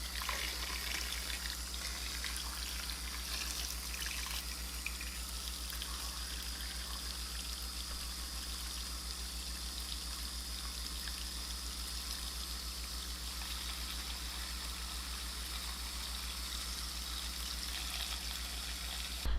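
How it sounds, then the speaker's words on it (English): Water runs from a tap into a pot of washed potatoes, a steady, even stream of gushing noise that lasts the whole stretch, close by and without speech. "We're just gonna add some water."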